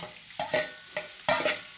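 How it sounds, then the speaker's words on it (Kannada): Boiled karchikayi tossed into hot oil tempering on an iron roti pan, a series of scraping stirs and sizzling bursts in uneven rhythm, close up, with no talk. "ಈಗ ಬೇಯಿಸಿಟ್ಟಂತ ಕರ್ಚಿಕಾಯಿ ಹಾಕ್ತೀನಿ ಒಳಗೆ"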